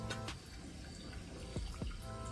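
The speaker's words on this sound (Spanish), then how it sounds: "Se pegue, le voy a tirar un poquito de agua." Water poured into a pan of tomato purée, a soft close trickle and splash followed by a couple of small drips, faint and without talk.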